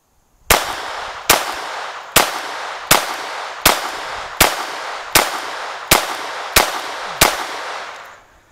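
Ten evenly spaced, loud, sharp gunshots from a pistol fitted with an Advantage Arms conversion firing CCI Mini-Mag rounds, each crack followed by a short ringing decay, then silence.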